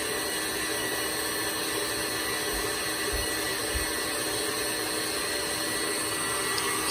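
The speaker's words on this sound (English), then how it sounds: "Just gonna take a peek at the mixer again." A stand mixer whirs steadily while whipping sponge cake batter, a loud continuous motor drone with a few faint low knocks partway through and no talking.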